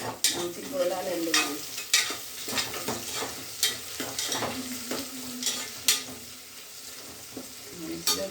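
Curry leaves sizzle and fry in a pan while a spoon stirs them, with repeated scraping strokes and sharp clinks over a steady crackle, close by with no talking.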